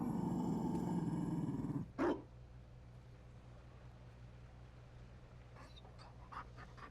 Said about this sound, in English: You found a dog.